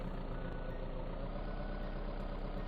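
Truck in the survival game VEIN, a steady idling engine drone with a faint intermittent beeping, constant and unbroken.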